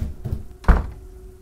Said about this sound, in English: The third knock was very loud.